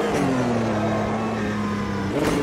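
A race car engine in the AMS 2 sim racing game holds a steady high drone with a slight falling pitch, spinning its wheels during a World Sportscar Championship race, loud and continuous without talk.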